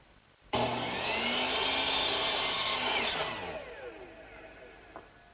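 Power saw cutting wood for a kitchen work table: a sudden loud start, then a steady high whine as the blade runs through the board for about three seconds, pitch falling as it winds down alone.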